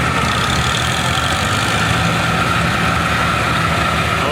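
Two Farmall tractors, a Super C and a Super M, rumble past at a tractor show, their engines giving a loud, steady, low chugging drone close by with no talking over it.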